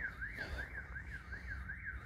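Faint and distant, a car alarm siren rises and falls in a steady repeating sweep over low outdoor rumble, with no voices.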